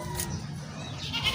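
A Jabli goat bleats at a livestock market, one nasal bleat standing out over a low murmur of background crowd noise, fairly close.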